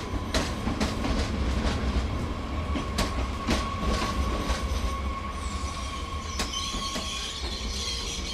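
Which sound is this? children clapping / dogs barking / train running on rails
train running on rails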